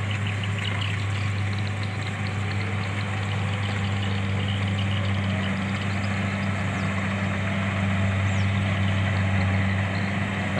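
Kubota DC70 combine harvester engine running steadily in a rice field, a loud continuous low drone with constant hum and no pauses.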